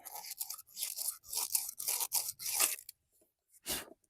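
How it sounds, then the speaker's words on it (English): Rough back-and-forth sanding on the cut end of an outdoor faucet pipe, a run of quick, close scratchy strokes that stops, then one last stroke after a short pause. "we're going to sand this off like we did that other piece."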